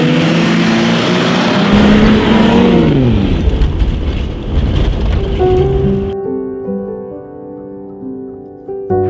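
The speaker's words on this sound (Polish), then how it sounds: "najbardziej lubię słuchać dźwięku silnika" A car engine revs hard and loud, its pitch climbing and sliding between gears, then settles into a steadier drone with changing harmonics near the end; no talking.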